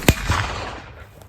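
A single sharp gunshot or black-powder test shot using wet-milled powder cracks out at the start, followed by a short, fading rumble outdoors.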